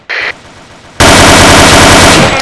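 Machine gun fire in the video game Operation 7: a short burst, a pause, then a long, loud, sustained stream of rapid automatic shots.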